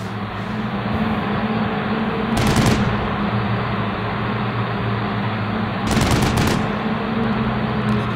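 Two short bursts of rapid machine gun fire ring out in the game Black Sea Alpha, each lasting about half a second, over a constant droning engine-like hum.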